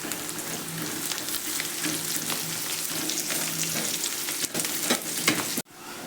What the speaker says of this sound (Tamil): தேங்காய் போட்டு நல்லா வதங்கிடுச்சா